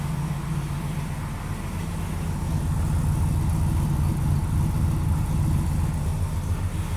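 A 2006 GMC Sierra 2500 pickup with 34,000 original miles idles on a cold day, a low, steady rumbling engine hum close by that swells slightly partway through.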